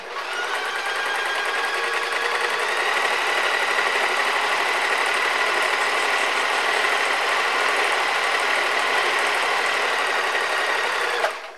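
A sewing machine stitches fabric seams in one steady, fast whirring run of about eleven seconds, close and loud, with no voices over it.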